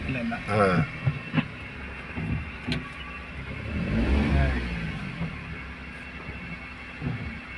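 Car engine creeping slowly up a slope during a driving lesson, a low, modest hum that swells and eases as the car moves, heard under an instructor's ongoing talk.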